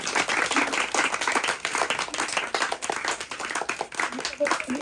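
An audience at a mehfil show claps for a mother's home-cooked chicken dish: dense, steady crowd applause that stays loud and close for the whole stretch, with no break.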